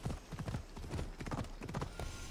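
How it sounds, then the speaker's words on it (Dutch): Horse hooves gallop in Assassin's Creed Odyssey, a rapid loud clip-clop rhythm close by with a rushing, rumbling undertone, and no voices over it. "Lekker paard."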